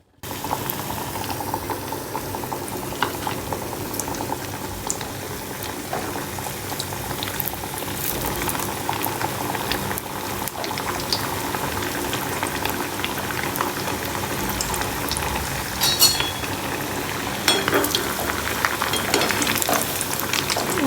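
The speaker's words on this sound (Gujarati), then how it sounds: "ગોલ્ડન બ્રાઉન ના થાય ત્યાં સુધી આપણે તળવા પડશે" Potato snacks deep-fry in hot oil until golden brown, a dense, continuous bubbling sizzle with scattered crackles and pops that holds steady throughout.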